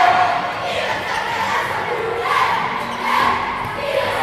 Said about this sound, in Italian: Continua intanto l'incitamento dei tifosi della Capitolina Marconi, rumorosissimi.